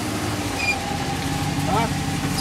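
A Harley-Davidson motorcycle idles close by with a low, uneven throb while people talk over it.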